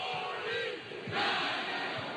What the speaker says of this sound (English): Got the 49er chant now going here at Halton Arena.